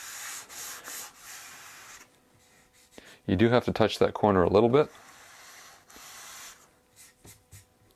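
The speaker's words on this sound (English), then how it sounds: "take the sandpaper and really just get that smooth" Sandpaper rubbing by hand against a wooden desk edge in short scratchy strokes, close by, with a person speaking briefly in the middle before the rasping resumes.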